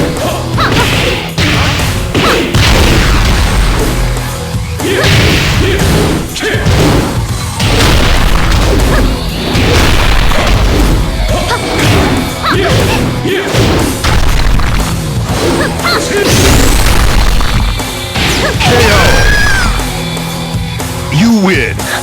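Tekken fight between Jin Kazama and Devil Jin, a dense barrage of loud punches, kicks, whooshes and booming hits with game voices and shouts mixed in, continuous and intense.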